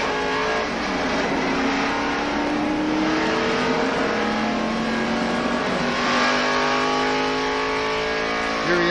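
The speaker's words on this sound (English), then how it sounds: "Here he is coming up to speed, running around the flat part of the racetrack, getting it back up to speed." A 1993 stock race car at the Daytona 500 accelerates hard out of a pit stop, its engine revving steadily upward in pitch over about nine seconds, loud and continuous with no talk.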